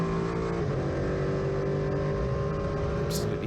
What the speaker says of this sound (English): Absolutely gorgeous sound there from the cockpit of the Duqueine D08